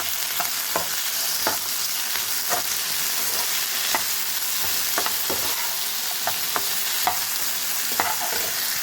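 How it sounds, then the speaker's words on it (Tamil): Cut potatoes with salt sizzle steadily in a hot pan, a constant close frying hiss broken by regular clinks and scrapes of a spoon stirring every second or so, with no voices. "இப்போ நான் கட் பண்ணி வச்ச உருளைக்கிழங்க சேர்த்துக்கிறேன்"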